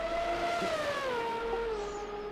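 A classic Ferrari Formula 1 car from the 1988–1991 era drives a lap of the Australian circuit in the F1 2020 video game, its engine a sustained, loud, close note whose pitch slides steadily downward, with no voices.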